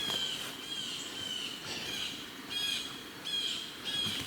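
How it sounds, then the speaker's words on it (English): Birds calling in autumn woods along a stream, a steady chorus of high chirps and squawks with a few louder bursts, heard alone with no talking. "The birds are closing in though, I can tell. They sound like they're getting mad."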